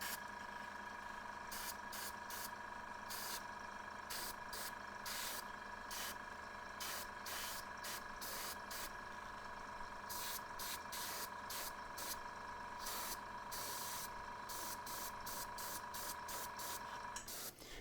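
An airbrush with a 0.4 needle sprays paint in light, dry passes onto a model, a steady close hiss broken by brief trigger pauses and a faint background hum.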